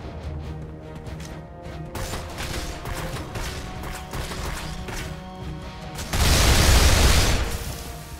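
Gunshots and crashing impacts in the 2009 PC shooter Damnation over a dense game soundscape, building to a loud burst near the end.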